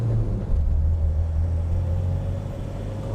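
A 1991 Range Rover two-door with a turbo diesel pulls through the gears on the road, its engine a steady low droning rumble heard from inside the cabin, with a slight rise in pitch and no clear gear-change break.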